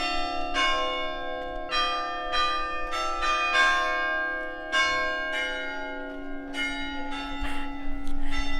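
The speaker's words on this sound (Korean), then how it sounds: "오 종친다" Church bells in Ragusa, Sicily, ring out steadily and loudly, repeated strikes overlapping with a sustained humming resonance, no talking.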